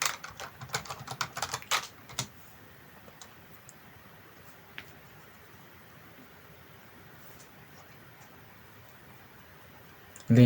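A computer keyboard clatters with a quick burst of close key clicks as a terminal command is typed, then falls to near silence with a few stray taps before a loud bump at the end.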